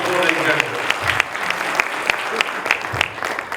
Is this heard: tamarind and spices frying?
no